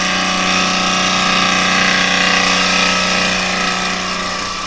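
Wood lathe running while a turning tool makes a push cut with bevel contact, a loud steady hum and whir with a continuous cutting hiss, close and unbroken throughout.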